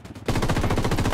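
Rapid bursts of gunfire in the video game Ghost Recon erupt after a brief quiet moment, a fast automatic rattle that stays loud and continuous to the end.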